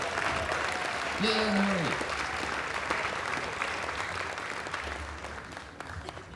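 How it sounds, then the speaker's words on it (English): An outdoor stage-show crowd applauds mountain dulcimer players, a steady wash of clapping with a brief cheer and voices calling out over it, continuing throughout. "Another big round of applause for these Mountain Dulcimers."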